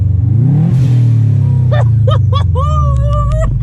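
A Subaru Forester engine with a blown head gasket, still boosting, revs hard with a loud, steady low roar that climbs and holds. Higher whistling and whining tones rise and break over it in short bursts.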